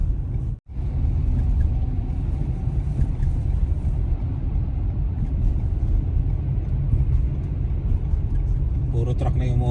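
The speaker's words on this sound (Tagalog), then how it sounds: "May truck sa likod natin, oh. Yun, overtake na." A truck overtakes on a snowy Canadian winter highway, its heavy low rumble and road noise steady and loud around the vehicle throughout.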